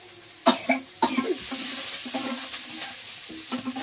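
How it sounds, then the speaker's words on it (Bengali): Chopped onions, green chillies and five-spice dropped into hot oil, sudden sizzling bursts as they hit the pan, then a busy crackling fry with scattered scraping stirs and no one speaking. "কেটে রাখা পেঁয়াজ কাঁচা লঙ্কা গুলো তেলে দিয়ে দিচ্ছি"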